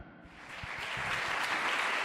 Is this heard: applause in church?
yes